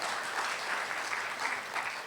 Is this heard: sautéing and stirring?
no